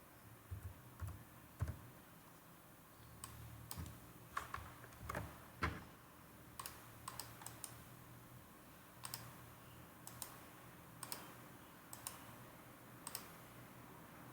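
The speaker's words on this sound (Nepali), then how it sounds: "यहाँ टाइप गर्ने।" Computer keyboard typing during data entry in accounting software: sparse, irregular clicks and short bursts of keystrokes, close but quiet, with no one speaking.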